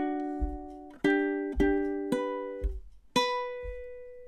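A ukulele plays a short phrase from a song: six plucked and strummed chords in a steady rhythm, each ringing briefly before the next, with low thumps under several of them.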